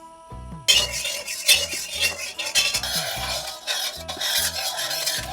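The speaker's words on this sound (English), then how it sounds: "Put salt and haldi and mix it and fry" Pumpkin being stirred and fried in a pan with salt and turmeric, close metallic scraping and rubbing of a utensil against the pan in repeated strokes, with a light sizzle underneath.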